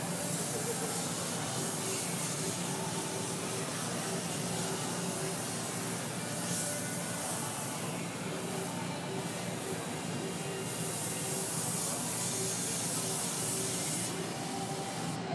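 Airbrush spraying paint onto a t-shirt, a steady close hiss of compressed air that continues for the whole stretch with slight swells in intensity.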